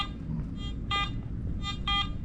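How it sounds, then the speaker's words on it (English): A handheld metal detector sweeps over a small coin at an outdoor demonstration, giving a few short, bright electronic beeps in pairs over steady low background rumble. "And the fact that it goes beep, beep, beep, beep, it means it's pretty small"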